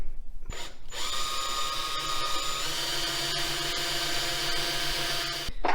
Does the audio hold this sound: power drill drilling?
yes